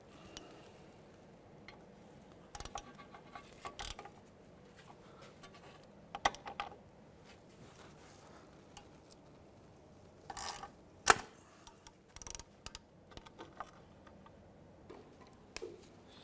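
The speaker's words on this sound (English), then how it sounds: "So now we're going to remove our speed sensor off the knuckle." Wrench clicks and metallic ticks from loosening the 10 mm speed sensor bolt on the steering knuckle of a 2007-2013 Mitsubishi Outlander, coming in scattered short bursts with quiet gaps between.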